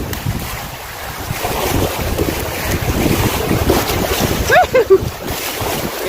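Canoe running class one river rapids on the Larder River, with steady wind buffeting and rushing water throughout, and a couple of brief splashes near the end.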